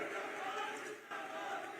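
A large crowd at a political rally cheers and claps to greet the Home Minister, a dense, roaring wash of many voices and hands heard at a distance, steady throughout.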